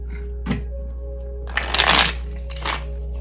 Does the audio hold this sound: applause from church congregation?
no